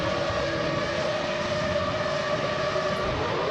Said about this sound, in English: As we follow through the drivers, the revs are building.